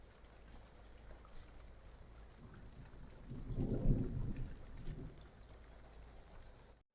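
Monsoon rain falls with a steady soft hiss while a deep roll of thunder swells in the middle and slowly rumbles away, distant and fairly faint.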